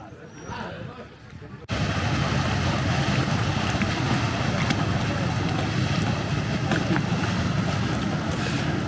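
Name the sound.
water taxi boat on the water at Tavira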